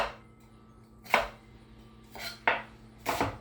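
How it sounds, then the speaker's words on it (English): An onion being diced with a knife on a cutting board, heard as four sharp separate chopping knocks spaced irregularly over quiet background, with no voices. "dicing up my onion"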